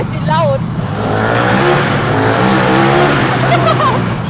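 A loud motorcycle engine revs and accelerates hard at night, roaring close and continuous, with people talking over it.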